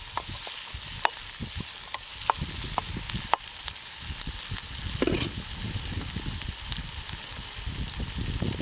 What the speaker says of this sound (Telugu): కరివేపాకు, పచ్చిదన్నం పోయినంత సేపు వేపుదాము.